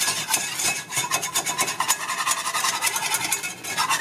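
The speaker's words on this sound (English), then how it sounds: "So I'm going to just keep whisking this for a few minutes." Flour and butter roux whisked in a pan, a continuous close scraping and rasping of the whisk against the pan with quick rhythmic strokes and no talk.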